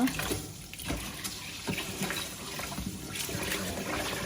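Water swishes and trickles in a bowl as rice is stirred and rinsed, with soft sloshing pulses and light clinks nearby.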